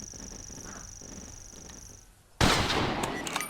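A shotgun fires in the hunting video game Carnivores Divergent, one abrupt loud blast that rings on into a lingering echo, with a steady high electronic tone and low ambience before it.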